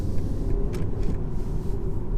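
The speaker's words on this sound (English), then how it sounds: "we'll give it half throttle. Engine comes on in about a second" A 2019 BMW 320i engine restarts and pulls at half throttle, giving a steady low rumble and road noise that hold throughout, with no one talking.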